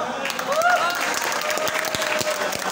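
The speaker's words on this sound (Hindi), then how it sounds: "तालियां।" Party audience applauding a guest's introduction: dense, steady clapping from a crowd indoors, with a brief tonal sound near the start and the applause continuing evenly throughout.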